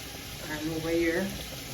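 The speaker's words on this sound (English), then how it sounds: "my dumpling is bubbling" Jamaican dumplings boil in a pot on the stove, giving a soft, steady bubbling and simmering sound at low volume with no voices.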